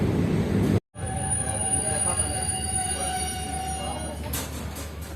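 Passenger train rolling through a station on the Tamkuhi Road to Gorakhpur line in India, with a steady loud rumble and long high-pitched wheel squeal, heard close from on board, after a brief dropout.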